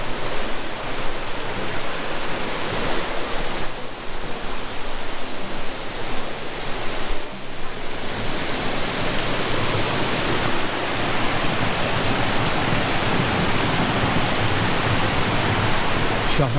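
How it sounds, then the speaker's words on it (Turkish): Water rushing steadily at Yerköprü waterfall in Antalya, a broad, continuous roar that stays loud and unbroken throughout with no pauses. "Her tarafından su akıyor."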